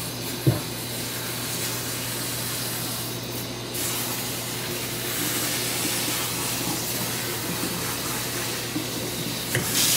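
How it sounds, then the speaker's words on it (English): Handheld shower sprayer runs steadily as water soaks thick natural hair locs, a constant close hiss of spray with small splashes and shifts in flow, no talking. "So take the sprayer and just start wetting my locks."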